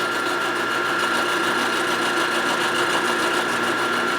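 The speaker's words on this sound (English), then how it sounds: "We're prime milling a big piece to dig in and bite and rip at all the shreds." A big cutter mills a 1947 Harley-Davidson EL Knucklehead 74ci engine case for weld repair, producing a loud, steady, close machining whine and grinding drone that holds unbroken throughout, with no voices.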